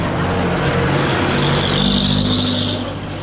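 Loud, steady engine rumble and road roar from inside a moving jeep, a continuous low drone with slight swells and no talk.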